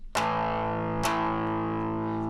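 A distorted electric guitar chord is strummed twice, about a second apart, each ringing out loud and sustained with a buzzy, saturated tone.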